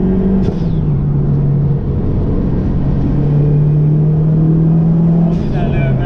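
A 2007 Mazdaspeed 3 cruising on a French-Canadian highway gives a steady, continuous engine and road rumble with a low droning tone throughout, heard from inside the cabin with no break.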